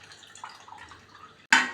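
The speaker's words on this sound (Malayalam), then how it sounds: "എനിക്കൊരു 2 ടീസ്പൂൺ പുളി ഒഴിക്കാമെന്ന് തോന്നിയിട്ട് ഞാനിതിലേക്ക് ഒഴിക്കുന്നുണ്ട്" Tamarind water poured into amla rasam makes a soft, brief liquid splash near the end, following a quiet stretch of faint kitchen noise.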